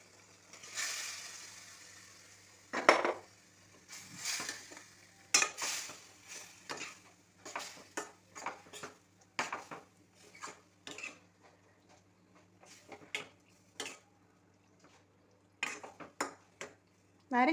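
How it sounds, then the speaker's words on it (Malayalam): Salted, steamed lemon pieces drop into boiling vinegar for homemade lemon pickle, giving a run of sharp clinks and stirring scrapes against the pot, with near, irregular bursts over a soft simmer and no talk. "എന്നിട്ട് നമ്മൾ ആവി കയറ്റി കട്ട് ചെയ്ത് ഉപ്പിട്ട് വെച്ചിരുന്ന നാരങ്ങ നമുക്കതിൽ ഇടാം."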